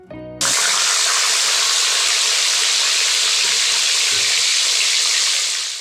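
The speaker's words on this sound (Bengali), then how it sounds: "তেল গরম হলে মাছের পিস কড়াইয়ের মধ্যে দিয়ে দিলাম" Fish pieces dropped into hot oil in a pan, bursting into loud, dense sizzling that holds steady and close, with faint crackles underneath and no talk.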